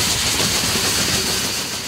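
A steam locomotive hauling a train on the narrow-gauge Cumbres & Toltec Scenic Railroad in Colorado, a loud, continuous rumbling hiss heard from close on board, with no talk.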